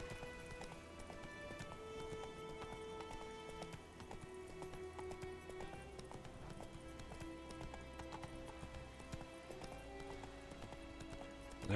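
Roach the horse gallops in The Witcher 3, a continuous, even clip-clop of hooves at a steady pace over a low rumbling game soundtrack with sustained tones, from start to finish.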